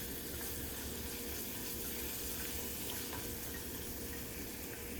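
Water is poured into a cooking pan of masala for a chicken dish, giving a steady, continuous wash of running, splashing liquid close by with no talking.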